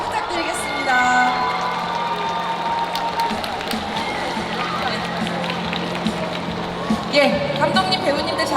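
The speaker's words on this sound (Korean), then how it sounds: "모두 뜨거운 박수 부탁드리겠습니다" Outdoor audience applause and cheering greet the director and cast of the festival opening film Jeon,ran as they come on stage; a dense, steady wash of clapping with scattered whoops and voices throughout.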